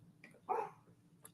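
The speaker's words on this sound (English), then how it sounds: "Can you hear Tonja's dogs? They are funny" A small dog gives a single short, faint bark indoors, with a quieter yip shortly before it and a soft sound after, against a low hum.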